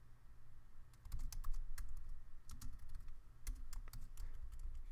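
Close computer keyboard typing while an HTML comment is entered, bursts of sharp key clicks with short pauses, moderately loud and free of speech.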